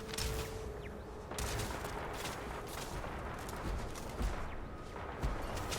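Turret gunfire in the sci-fi game Starfield, a dense sustained volley of shots rattling continuously at moderate distance, with a few sharper reports standing out, no talk.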